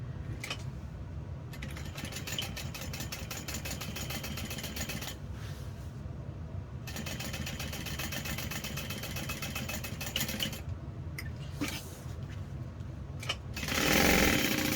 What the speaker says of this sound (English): we're just going to stitch down both sides to attach it to the lining piece